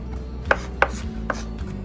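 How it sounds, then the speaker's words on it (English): Knife chopping fresh ginger on a cutting board for a Korean tofu dish: a few sharp, separate taps spaced about half a second apart, close and clear, with no voices. "So you can see I'm just giving this a very rustic chop here"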